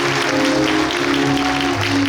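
Audience applause at a civic ceremony in Suncheon, heard as a dense, steady wash of clapping from many hands that runs evenly the whole time, with a low hum beneath.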